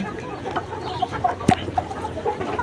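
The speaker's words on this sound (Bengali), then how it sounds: "এই ভিডিওটির মুরগিগুলো দেখা যাচ্ছে যে ডিমের জন্য একবারে পরিপূর্ণ রেডি মুরগি" Layer pullet hens ready to start laying, about 3,600 vaccinated birds in a poultry farm shed, clucking in soft scattered calls over a steady barn hum, with one sharper nearby squawk midway.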